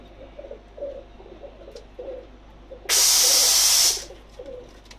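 Rampuri pigeons coo softly in a repeated low rhythm, interrupted midway by a loud hiss of spray that lasts about a second.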